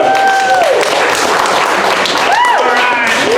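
A live audience at a comedy show applauds and cheers loudly for a local performer, steady dense clapping close up, with a voice and some whistles over it.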